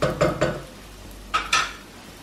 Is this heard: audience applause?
no